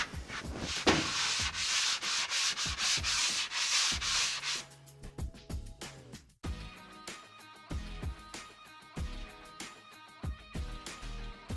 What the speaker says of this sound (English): Now that the sanding is complete